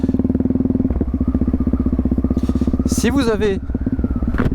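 A Yamaha MT-03 660 motorcycle idles with a steady, rapid low pulsing throb close by, while a voice speaks briefly over it near the end.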